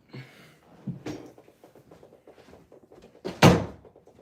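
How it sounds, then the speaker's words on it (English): A few soft knocks and shuffles lead to one loud, close thud as a room door is shut during a live guitar and Q&A stream, with no talking. "Let me close my door."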